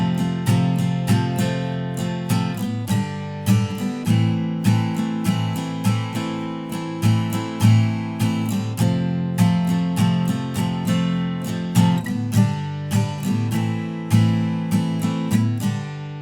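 An acoustic guitar strums intro chords in a steady, driving rhythm, close and full with crisp strokes, played alone without talk.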